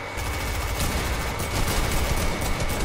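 Sustained assault rifle fire crackles in a video game, a dense, loud stream of rapid shots with layered bursts running without a break and no talk over it.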